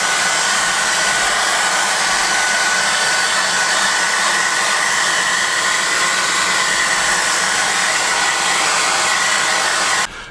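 A hair dryer on a low, cool setting blows steadily over rock salt on a 1/48 scale HobbyBoss F-14D Super Tomcat model, making a close, loud, unbroken whoosh that runs for about ten seconds and then stops.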